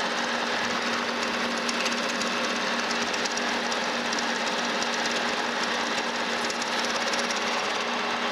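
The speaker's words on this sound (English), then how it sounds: "Now we just need to turn this down to 1/2 inch." A metal lathe turns down a new valve stem for a steam locomotive stoker engine, a steady loud mechanical whir with a constant rattling chatter and hum running evenly throughout.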